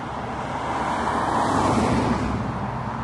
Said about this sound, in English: But the noise of the traffic is incredible.